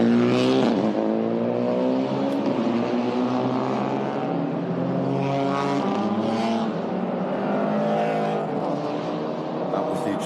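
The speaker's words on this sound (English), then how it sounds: "We should hear that engine din." Touring race cars from the TP2000 and MT1600 classes at an MTCC Round 4 race roar past on the track, heard from directly above. Loud, continuous engine drone with rising and falling pitch as several cars go by.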